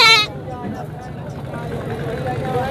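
A goat at a livestock market gives one short, loud bleat at the very start, followed by a constant murmur of engines and market crowd noise.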